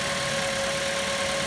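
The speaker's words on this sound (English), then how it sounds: "she's idling nice and true now" A 2008 Mazda 5 engine idles after a valve cover replacement, giving a steady, even hum with a constant drone and no change in pace, close and alone with no talking.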